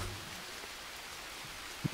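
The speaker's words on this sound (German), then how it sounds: "Es regnet immer noch." Faint, steady rain hiss in the jungle survival game Green Hell, an even wash of drops with a couple of soft thumps at the end and no voices.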